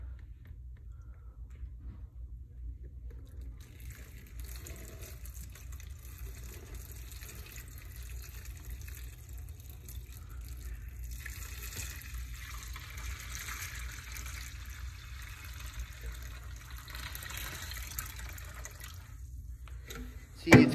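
Tap water runs steadily for about twenty seconds, filling a container for a running-shoe waterproof test, with a continuous gushing wash that grows slightly fuller midway, then a brief knock right at the end.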